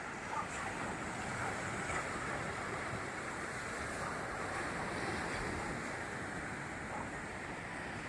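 Big waves breaking on a shore make a steady, close roar of surf mixed with wind, with no voices.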